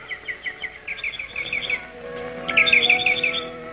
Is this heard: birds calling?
yes